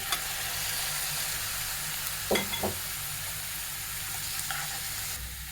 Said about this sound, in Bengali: চিকেনগুলো একটু তেলে ভেজে নেব এখন দিয়ে দিব বাঁধাকপিগুলো